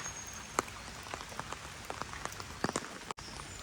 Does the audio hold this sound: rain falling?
yes